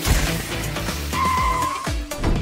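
A car pulls up with tires skidding and squealing, a loud close engine rush followed by a sustained screech and sliding tire noise, ending in a short rumble.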